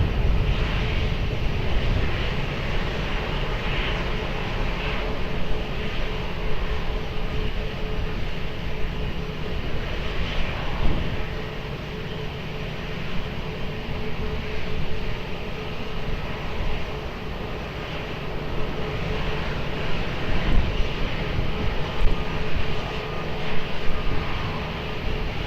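An airliner taking off from runway 20 at Lisbon Airport gives a steady, loud, broadband jet engine roar that holds continuously throughout without talk.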